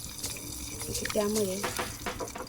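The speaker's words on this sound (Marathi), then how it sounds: "मी ते एका वाटीमध्ये अर्धी वाटी पाण्यात साखर विरघळत ठेवली होती ती ओतून घ्यायची." Sugar water, half a bowl with sugar dissolved in it, poured into a dhokla tempering of mustard, curry leaves, sliced green chilli and asafoetida, giving a soft running splash and sizzle close by beneath continuous talk.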